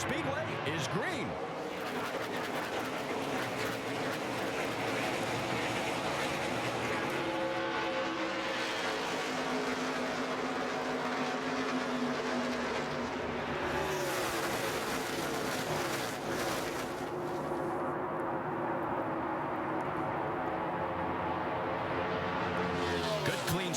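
NASCAR Nationwide stock cars roar continuously down the front straightaway at Texas Motor Speedway at the green-flag start of the 2010 O'Reilly Auto Parts Challenge, a dense, loud, sustained engine wash with voices mixed in.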